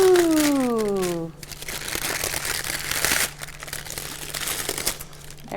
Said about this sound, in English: we'll tear open our parchment